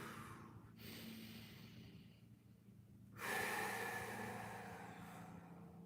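Deep belly breathing during a guided shoulder and neck massage exercise: soft, slow breaths with a short gap, then a louder, longer exhale that fades out, heard close and alone with no talk.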